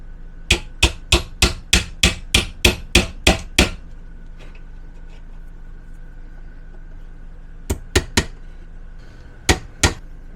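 A hammer taps nails home in an RV pantry shelf rebuild: a steady run of about a dozen sharp, evenly spaced strikes, a pause, then two short bursts of three and two blows, loud and close.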